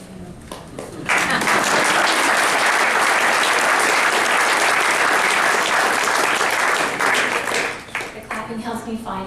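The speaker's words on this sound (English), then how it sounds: "The clapping helps me find my spot." An audience at a squash hall of fame awards ceremony bursts into loud, sustained applause that swells, holds for several seconds, then fades as a voice resumes speaking over the last claps.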